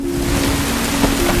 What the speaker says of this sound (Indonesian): hujan badai pun menerjang hingga membuat camp mereka